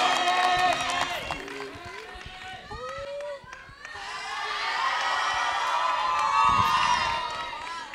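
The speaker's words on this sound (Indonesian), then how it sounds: "Sekali lagi tepuk tangan untuk Febri." A live talent show audience cheers and applauds, a swelling wall of crowd noise with shouts and clapping that rises to a peak and holds. Voices speak and shout over the start before the cheering takes over.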